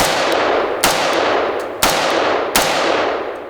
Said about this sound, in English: I'm gonna shoot again about 20 yards here.